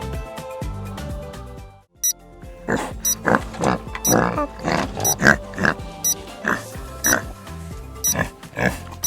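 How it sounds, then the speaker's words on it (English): A pig grunts and oinks in a rapid, uneven series of short snorts, close and fairly loud, after a brief low rumble at the start. "It's a pig!"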